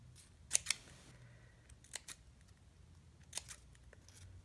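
Scissors cutting a thin sliver of paper while making packaging embellishments: a few crisp, close snips in quick pairs, separated by quiet gaps over a faint background hum.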